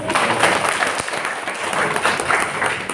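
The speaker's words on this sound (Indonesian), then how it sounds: "Tepuk tangan buat Restu ya." Audience clapping at a workshop session, a steady patter of hands from a modest group in a room, fairly close and continuous for a few seconds.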